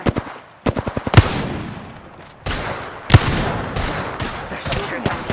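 Bursts of automatic gunfire in the video game Apex Legends: rapid volleys and loud single shots ring out near and far across the moment, with a faint voice underneath.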